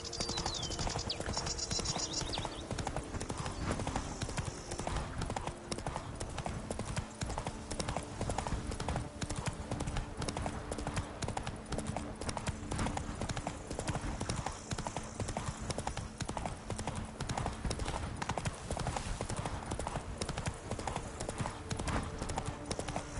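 Geralt's horse Roach gallops in The Witcher 3, with rapid, rhythmic hoofbeats pounding steadily and close for the whole stretch over a soft ambient game backdrop.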